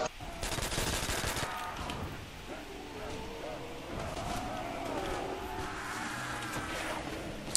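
Rapid bursts of gunfire in the zombie shooter Zombie Realism 2.2, loudest in a dense cluster over the first couple of seconds and then thinning into scattered shots and game noise beneath ongoing talk.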